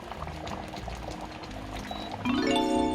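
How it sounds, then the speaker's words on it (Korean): Sweet and sour sauce with vegetables bubbles thickly as it boils in a pan for homemade sweet and sour pork, a close stream of soft pops and gurgles that grows louder and busier near the end. "이렇게 보글보글 끓면 꺼버리면 됩니다."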